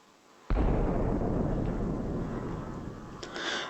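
A meteor weapon strikes a planet in the Solar Smash video game, a sudden heavy explosive boom followed by a long rumbling roar that slowly fades, with a faint secondary burst near the end.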